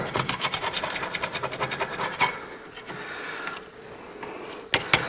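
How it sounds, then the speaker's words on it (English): Corrosion being scrubbed off the lower ball joint mount on a Ford Crown Victoria Police Interceptor, heard as a close, steady rhythmic rasping of a wire brush on metal that stops partway through, followed by quieter scraping and a few knocks. "So let's clean up that corrosion around there first."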